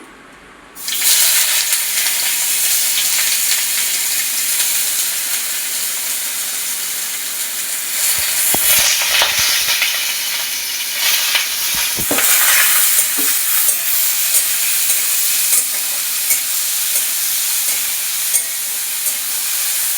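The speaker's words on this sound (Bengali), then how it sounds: "পেঁয়াজটা লাল লাল ভাজা হবে" Chopped onions sizzle and fry in a pan for a country chicken curry, a steady loud crackling hiss with occasional stirring scrapes and no talk.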